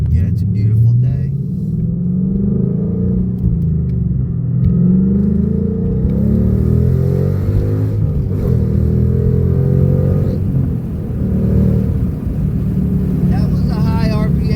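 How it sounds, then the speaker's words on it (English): Ford MT82 manual-transmission car engine revving hard through a high-RPM shift into third gear, a loud steady in-cabin rumble that rises and dips around the shift, with a voice talking over it for much of the stretch. "That was a high RPM third gear shift."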